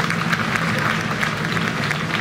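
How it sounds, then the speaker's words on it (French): An audience at a popular sing-along song event in Chartres claps steadily, a loud, close, even wash of many hands throughout. "vos applaudissements"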